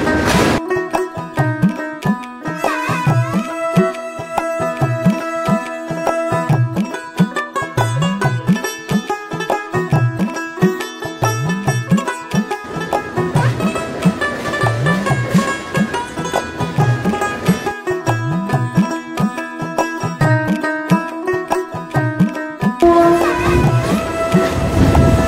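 A local train on the Howrah–Digha line crossing the Kolaghat bridge over the Rupnarayan river, with a loud, steady rumble and rhythmic wheel clatter that continue without a break.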